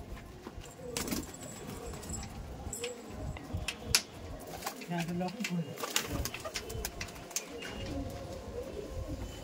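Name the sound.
pigeons cooing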